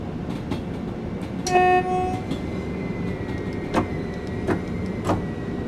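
Train Sim World 5 train in Brighton rumbles steadily with rail noise, a brief horn-like tone and a few clanking wheel hits over the track, heard without voices.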